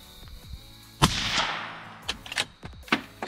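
Rifle shots fired at a steel target plate during youth practice, one sharp loud crack with a trailing echo followed by several quieter pops and clicks, heard at close range.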